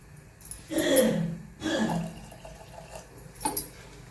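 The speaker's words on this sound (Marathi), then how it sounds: "अजून थोडंसं अर्धा फुलपात्र आपण पाणी ओतत आहोत" Water splashes into a pot of cluster bean curry in two short pours, then a faint trickle and a last small splash.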